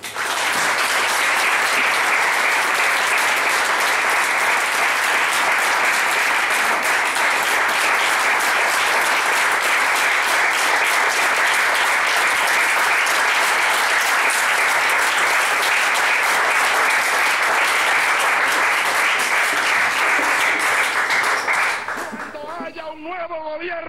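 A crowd at a political gathering applauding someone, loud and dense clapping that holds steady for over twenty seconds before fading as a voice begins to speak.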